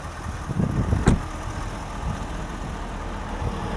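A 2023 Ford F-250 King Ranch Super Duty with a 6.7L turbo diesel V8 idling: a steady, fairly quiet low rumble with one brief knock early on.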